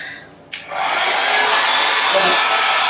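A blow dryer switches on and runs as a loud, steady, close whoosh while natural hair is silk pressed at home, with no talking.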